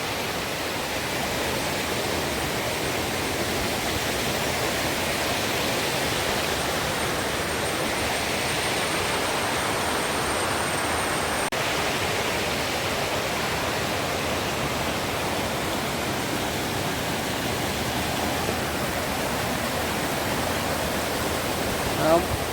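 Madatharuvi waterfall near Ranni pours down a rocky hillside with a constant broad roar of falling water. The sound stays loud and unchanging the whole time.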